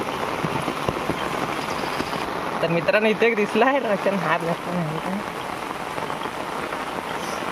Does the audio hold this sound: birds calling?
no